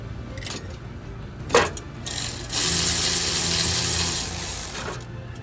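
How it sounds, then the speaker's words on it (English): An electric wrench whirs steadily for a few seconds while removing bolts from the exhaust manifold of a BMW S63 engine, preceded by short clanks of tools in a workshop. "I'm using the electric wrench just because it's faster"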